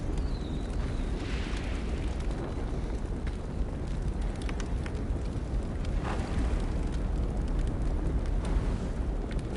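A character is set on fire in the video game Switchback, producing a loud, steady roaring rush of flames that fills the whole stretch without letting up.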